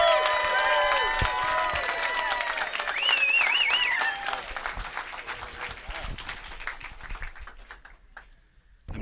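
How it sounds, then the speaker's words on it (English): Audience applause for Scott Heiferman of Meetup at a Startup Grind event: loud crowd clapping with cheers and whoops, tapering off toward the end. "let's give him a big round of applause, Startup Grind style, for Scott Heiferman"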